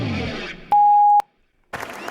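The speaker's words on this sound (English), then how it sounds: "that beep means we are going" A single sustained electronic beep marks the start of a radio talk show. The steady tone lasts about half a second and is followed by a sharp cut to silence, with studio sound before and after.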